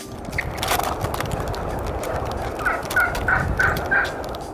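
Wild turkeys gobble nearby, a rapid series of throaty calls repeating toward the end, over a background of scuffling and other bird sounds.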